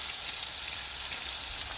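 A continuous hiss comes from potatoes frying in a pan with turmeric and chilli powder, fairly quiet, even and alone without pauses.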